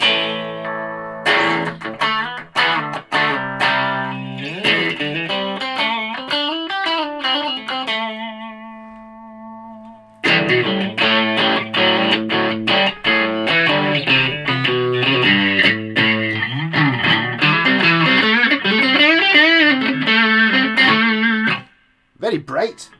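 Electric guitar played through a JHS 3 Series distortion pedal, with gritty distorted chords and single notes in bursts, a brief held tone and a short pause midway before heavier strumming resumes.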